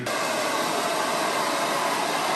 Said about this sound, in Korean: 빠르게 옆이랑 뒤에를 먼저 드라이기로 말려주고 위에 수분을 남겨주는 거예요